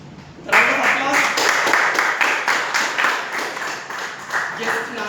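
A room at a Toastmasters club meeting breaks into applause for a guest, a burst of many hands clapping that starts suddenly, holds steady, then slowly thins out.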